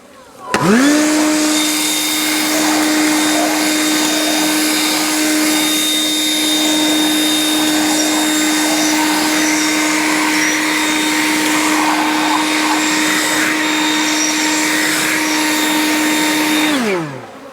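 A leaf blower runs over a honey box full of bees: a loud, steady motor whine that starts abruptly and holds level for about sixteen seconds before cutting off, close with no talk.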